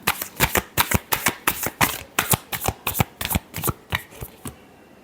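Tarot cards shuffled by hand, a fast run of about fifteen crisp riffling slaps in a steady rhythm, close and loud, with no talking.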